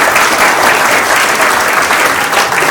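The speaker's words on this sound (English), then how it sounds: "Give them a round of applause." Sustained applause from an awards-night audience, dense steady clapping filling the room at close range, loud and continuous throughout with no voices over it.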